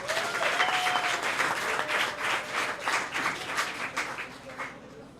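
An audience at a high school debate applauds steadily, many hands clapping in a dense patter that gradually thins and fades out.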